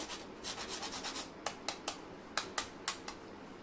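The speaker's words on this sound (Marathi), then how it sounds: "त्याच्यानंतर जायफळ जायफळ असं किसून टाकायचं आहे एक पाव चमचा" Whole nutmeg is grated by hand for dry fruit ladoo: a rapid run of soft rasping strokes, then slower, sharper scrapes spaced apart, close and fairly quiet with no talking.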